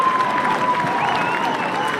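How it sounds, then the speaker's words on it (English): A stadium crowd at a women's football match erupts after a goal, a sustained wash of applause and cheering that stays loud and steady throughout. "Listen to the crowd go wild here at Cooper Stadium."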